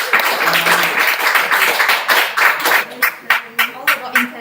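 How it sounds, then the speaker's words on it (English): Clapping from a small online Zoom meeting audience, a thin, uneven patter of hands that thins into a few separate, distinct claps toward the end, fairly close and mixed with some background voice. "Another round of applause."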